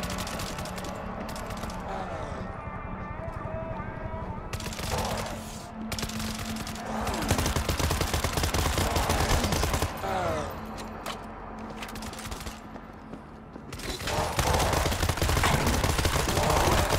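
An automated defensive turret in the zombie shooter World War Z keeps up a long, steady stream of rapid machine-gun fire with mechanical clatter. A few brief pauses interrupt it, and the bursts stay loud and close throughout.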